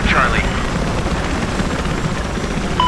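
Helicopter rotors in the video game Battlefield 4, on the Shanghai map, make a loud, steady whirring drone that runs unbroken throughout, with players' voices talking over it.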